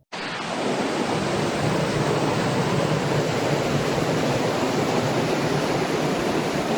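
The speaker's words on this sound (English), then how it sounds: "It is about a 20-foot waterfall." A roughly 20-foot cascade at Kinlock Falls in Alabama roars steadily and loudly from start to finish, a dense, unbroken rush of falling water with no voices.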